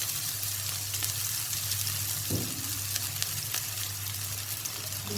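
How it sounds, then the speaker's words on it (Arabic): Chopped onion fries in hot oil in a pan, a continuous close sizzle and crackle with a brief stir partway through, no voices. "نديرو البصله تشحر تهبط واحد شويه"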